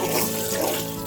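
Steady running water pours into an animal waterer on a farm where chickens and a turkey are kept, a continuous close splashing rush that lasts about a second.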